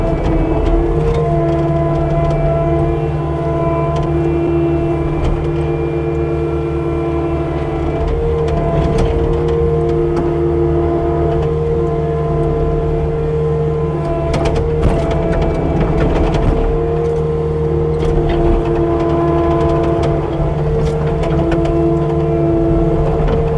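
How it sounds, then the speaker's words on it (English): A skid steer's diesel engine labours at a loud, close, steady drone with strong tonal hum as it pushes a large rock, and clanking mechanical knocks punctuate the continuous noise throughout. "Let's see what the skid steer can do with it."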